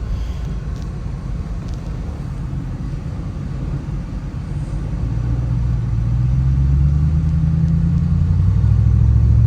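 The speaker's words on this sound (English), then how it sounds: "as you can tell, the car runs great. These 5-liter V8s from Ford are just workhorses." A 1988 Lincoln Town Car limousine with a Ford 5-liter V8 runs steadily, a deep continuous engine rumble close by that swells louder and fuller over the second half as the revs climb.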